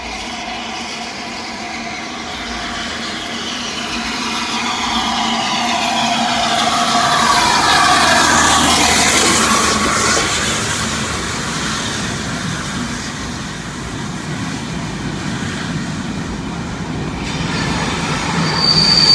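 A steam train rolls slowly into a station platform, wheels squealing and metal screeching as it grows louder, then fades, with a steady rumble throughout.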